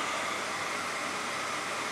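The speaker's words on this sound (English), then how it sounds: "and that noise you hear is the giant, shouldn't say giant, but the big inflatable Mickey" A steady, even whirring of the blower fan inside a large inflatable Santa Mickey yard decoration, a constant broadband hum with no breaks, close by.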